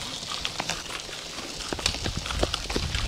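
Horse hooves clip-clop in a loose, uneven series of fairly close steps at a horse training session, over light background noise with no talk.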